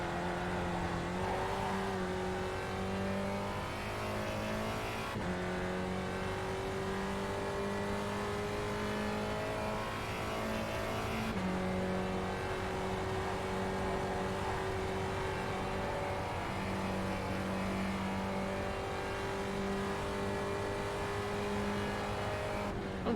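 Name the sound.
race car engines in iRacing video game at Iowa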